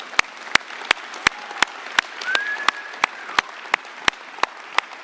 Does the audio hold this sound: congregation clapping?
yes